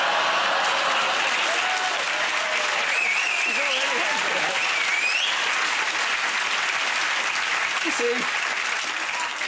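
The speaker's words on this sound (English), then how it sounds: "she's already got a round of applause" Studio audience applause on a TV talk show, a loud continuous wash of clapping with a few cheers and a voice talking over it.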